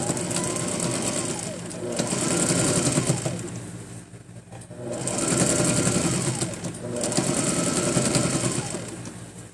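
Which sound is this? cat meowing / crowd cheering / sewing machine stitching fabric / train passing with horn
sewing machine stitching fabric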